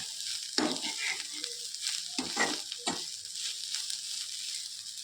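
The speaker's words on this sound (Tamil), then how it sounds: "இதில் நான் தேங்காய், உப்பு, வெங்காயம், மஞ்சத்தூள் இது 4 போட்டு தான் இப்போ நான் இதில் வதக்கிட்டு இருக்கேன்" Food sizzles steadily in a hot pan as coconut, onion, salt and turmeric are sautéed, with a few scraping stirs from a spatula breaking through the frying hiss.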